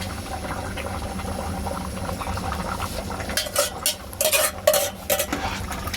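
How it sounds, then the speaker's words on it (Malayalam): Mutton for an Arabic madhoot is stirred in a cooking pot, with a soft steady simmer followed by a few sharp scraping clatters of a spoon against the metal near the end. "ഇളക്കലിൽ ഒരു കോംപ്രമൈസും വരാൻ പാടില്ല കേട്ടോ നന്നാക്കി ഇളക്കി കൊടുക്കണം"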